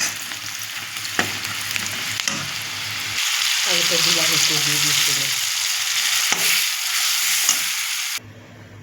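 Lentils frying in oil in a wok with panch phoron, dried red chilli and onion: a steady crackling sizzle with stirring scrapes, a voice speaking briefly over it, then an abrupt stop near the end.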